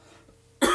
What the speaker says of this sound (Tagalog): pasensya na kayo at ako ay inuubo